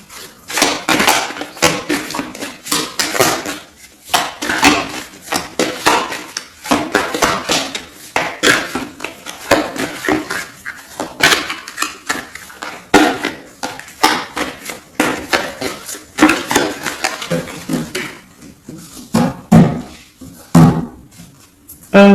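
A deck of tarot cards is cut and shuffled, giving a long run of quick, crisp clicks and slaps in an irregular rhythm, close and fairly loud, with no talking.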